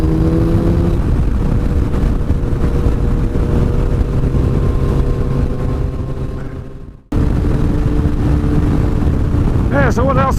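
Loud, continuous engine drone and wind roar from a Yamaha FZ1 motorcycle being ridden, heard close up with a brief dropout before the steady roar resumes.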